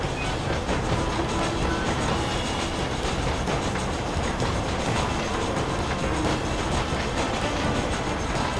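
A train ride in Red Dead Redemption rolls on with steady wheel rumble and repeated clickety-clack over the rails, loud and continuous with no voices.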